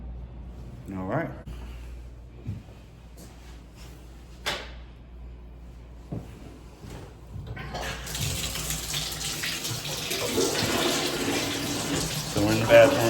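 Water gushes from a bathroom tap in a vacant rental unit, starting after a few clicks and knocks and running steadily and fairly loud to the end.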